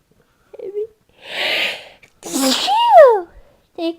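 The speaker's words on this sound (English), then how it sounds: "Hold on! Sneezing!" A single sneeze erupts in the middle of a pause in someone's talking, with a quick breath drawn in beforehand and a short voiced sound following right after, all close to the mic.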